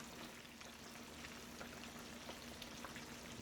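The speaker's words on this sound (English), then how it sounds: "we're going to let these fry" Chicken wings deep-frying in oil give a steady crackling sizzle with scattered pops, faint and unbroken, with no voices over it.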